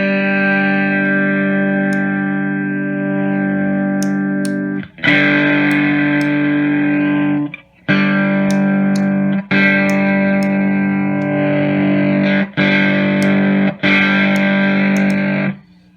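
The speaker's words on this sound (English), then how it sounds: "it basically just removes the diodes from the circuit altogether, the clipping diodes, and you end up with just, op-amp distortion" Distorted electric guitar through an overdrive pedal with its clipping diodes removed, leaving only op-amp distortion; sustained harmonically rich chords ring loud and close, broken by several short gaps between strummed phrases, with no voices.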